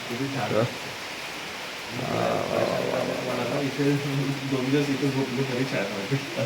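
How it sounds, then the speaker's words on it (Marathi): Steady hissing morning rain fills the background in Vengurla, Konkan, while voices talk over it for most of the clip. "सकाळ झाली आणि आता एवढा मस्त पाऊस पडतोय"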